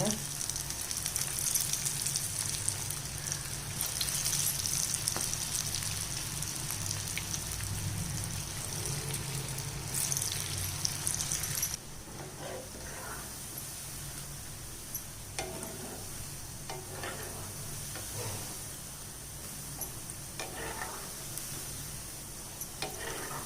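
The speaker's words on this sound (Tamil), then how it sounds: "பக்கோடா கிள்ளி போட போகிறேன்." Moong dal pakoda batter frying in hot oil over a medium flame, a steady broadband sizzle that stays fairly loud throughout, dropping slightly in level partway through and continuing with small crackles.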